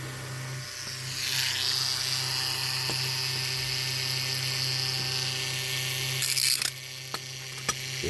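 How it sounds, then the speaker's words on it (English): A Dremel rotary tool works on a 1947/48 Dinky Toys diecast ambulance, giving a steady high whine that spins up early and runs continuously over a low hum, with a few sharp clicks near the end. "Right, so Dremel."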